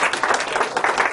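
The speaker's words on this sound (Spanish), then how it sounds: "Le damos un aplauso porque la verdad" An audience at a philosophy of psychology colloquium bursts into brisk, close applause, a short uneven patter of many hands clapping.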